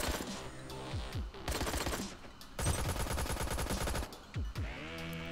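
Gunfire in the VR shooter Crunch Element comes in dense bursts of rapid automatic shots with short pauses between volleys. It is close and loud, with mechanical clatter mixed in.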